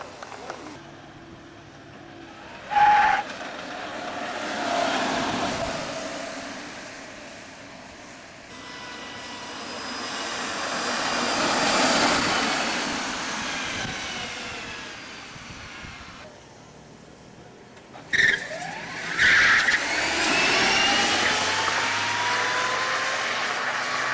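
An electric drag racing roadster accelerates down the strip at a 1999 race meet, a rising whine that swells and fades as it pulls away, heard over crowd noise and an announcer's voice over a loudspeaker.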